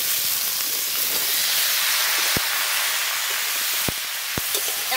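Ridge gourd and potato pieces dropped into a sizzling crab curry, a loud, continuous bright frying hiss with a few sharp pops and crackles, no talk.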